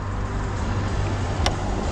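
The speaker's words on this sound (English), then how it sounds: "there's still traffic" Road traffic on a morning rush-hour street, a faint steady low rumble of passing vehicles, with a brief sharper hiss or swish near the middle, no talk.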